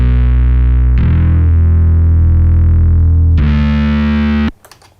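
Loud, sustained bass guitar notes with heavy overdrive, thick and buzzing, two long held tones before an abrupt cut to faint noise.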